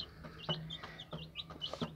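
Chicks and chickens cluck in a coop of backyard free-range birds: a string of short, close clucks and chirps repeating every quarter to half second, with no voices.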